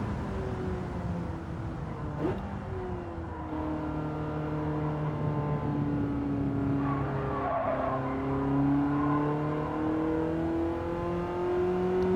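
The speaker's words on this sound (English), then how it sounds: "Nice sound from the engine." A classic BMW E30 M3 Evo or Mercedes 190E 2.5-16 engine revs up and down through the gears, its steady rising and falling tones close and loud, carrying alone with no talk throughout.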